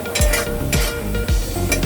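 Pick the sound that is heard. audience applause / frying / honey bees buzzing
frying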